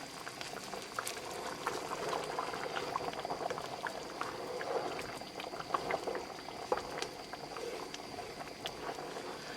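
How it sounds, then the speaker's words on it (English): Creamy malai paneer gravy boiling in a pan, a close, continuous bubbling with small pops and plops scattered throughout at moderate volume, no voices. "As you see, it started to boil."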